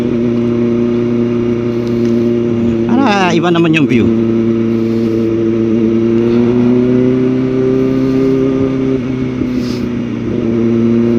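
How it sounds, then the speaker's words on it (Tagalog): Heavy early-morning traffic on EDSA highway, heard from a motorcycle, forms a loud, steady engine drone that runs throughout, while someone talks briefly over it. "At 5:46 AM, ganito na karami ang sasakyan sa EDSA."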